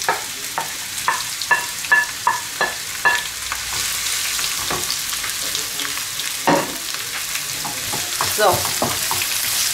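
Onion and bell pepper fry in oil in a pan, hissing steadily while a utensil stirs them in repeated knocks and scrapes; a voice speaks briefly near the start.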